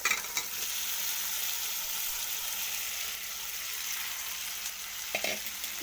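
Fried chicken pieces with turmeric and cumin powder being stirred in a hot pan, a continuous soft sizzle with scraping strokes at the start and again toward the end, no talking.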